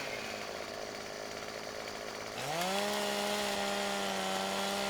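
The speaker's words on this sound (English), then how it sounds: "you just walk along it with the chainsaw running, and it chips all those branches" A chainsaw in Farming Simulator 15 roars steadily as it chips branches off a felled, rolling tree, idling at first and then revving up into a loud, sustained whine that holds to the end.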